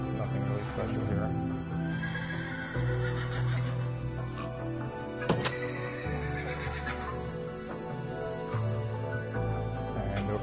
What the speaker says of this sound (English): Got a barn with a bunch of horses in it.